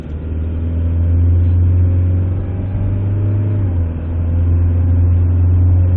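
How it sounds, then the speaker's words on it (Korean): A 2004 Kia Sorento engine, moved over from a 2002 Santa Fe, drones loudly and steadily from inside the car under a pressed throttle, its low rumble holding throughout with a slight dip partway. "지금 한번 쭉 밟아보세요."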